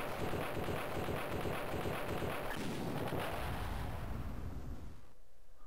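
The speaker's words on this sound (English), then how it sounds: "There's our explosion." Doom Dozer blowing up in the video game Drill Dozer: a series of rapid booming explosion blasts rumbling continuously, then fading into quieter game sound at the end.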